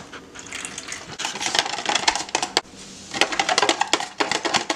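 Thick acrylic paint mixed with condiments glugs and splatters as it is poured, giving close, wet, irregular pulses that build and break off over several seconds, with no talk.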